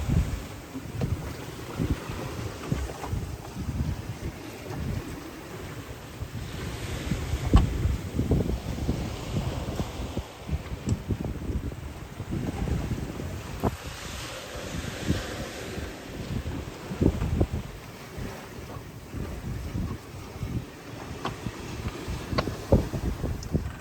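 Wind buffets a sailboat crossing the English Channel while waves slosh and thump against the hull, with gusty rumbling microphone noise running steadily throughout.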